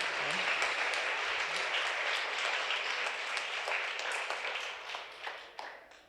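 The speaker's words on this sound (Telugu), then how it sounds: "చేతులు ఊపి గట్టిగా చప్పట్లు కొట్టి." A church congregation at a Catholic confirmation Mass claps loudly in a sustained burst of applause that gradually thins and fades toward the end, with faint voices mixed in.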